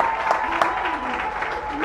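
An audience claps steadily, a soft, continuous patter of many hands, with a voice speaking over it.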